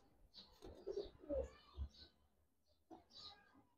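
Giribaz pigeons coo softly in a few short, throaty bursts, faint and fairly close, with a pause before a final coo.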